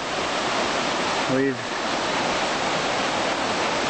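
Big Creek flowing beside the Baxter Creek Trail in Great Smoky Mountains National Park, a steady loud broadband rush of water that fills the whole span, with a brief spoken word over it.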